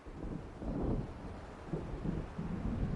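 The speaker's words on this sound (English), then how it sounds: "It seems there's a storm coming." Low, rumbling thunder from an approaching storm in the video game Alan Wake, rolling in uneven swells with wind and rain-like noise underneath.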